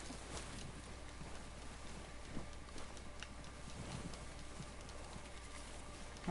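Horse hooves clip-clopping in the Western video game Red Dead Redemption, a steady run of faint hoofbeats over a low ambient bed with no voices.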